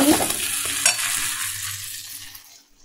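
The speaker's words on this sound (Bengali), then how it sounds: "তো 2-3 মিনিট একটু কষিয়ে নেব" Ground spices with Kashmiri red chili powder and garam masala sautéing and being stirred in a pan, a soft sizzle with scraping that fades over a few seconds, no talking.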